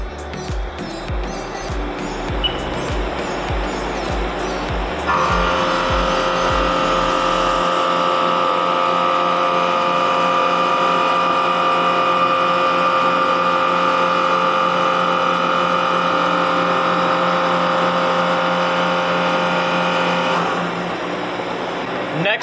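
A CNC mill takes a high speed machining cut at 2750 RPM, starting with a loud steady whine of the cutter in the workpiece that holds for about fifteen seconds over the machine's running hum, then easing off near the end.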